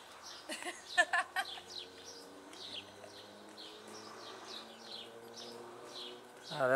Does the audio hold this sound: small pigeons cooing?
yes